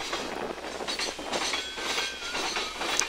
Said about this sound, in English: NS 1142 is a EMD ST70 ACE, built in 2014 for Norfolk Southern.